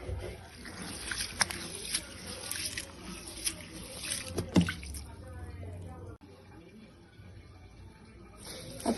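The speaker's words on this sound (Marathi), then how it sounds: "आता स्वच्छ 2-3 पाण्याने आपण याला धुवून घेणार." Wheat and rice are rinsed in water in a kitchen, giving soft sloshing, trickling and dripping sounds with a few sharp clinks, quiet and close, and occasional voices in the background.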